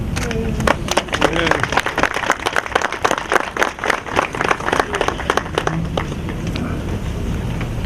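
An audience at a reading ceremony for the Irish Easter Rising in Scituate breaks into applause, a dense burst of clapping that swells, then thins out after several seconds, with voices around it.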